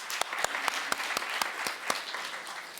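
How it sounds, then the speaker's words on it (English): Scattered clapping from a graduation audience at a Laney College EOPS ceremony, with a few distinct claps spread through the moment, fairly faint and thin, with no voices. "So I want you to give yourself a round of applause too."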